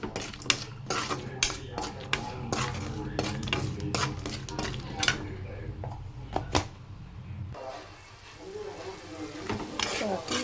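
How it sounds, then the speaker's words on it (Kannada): Food being stirred and mixed with salt in a pot, a spoon scraping and clinking against the metal in a steady, busy rhythm, close and fairly loud, with a faint sizzle beneath. "ರುಚಿಗೆ ತಕ್ಕಷ್ಟು ಉಪ್ಪು, ಹಾಕಿ ಚೆನ್ನಾಗಿ ಮಿಕ್ಸ್ ಮಾಡಿ"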